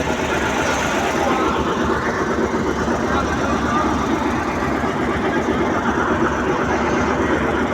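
A boat engine drones steadily on the Ganges near the Kashi ghats during a river ride, a loud continuous rumbling hum with indistinct voices mixed in.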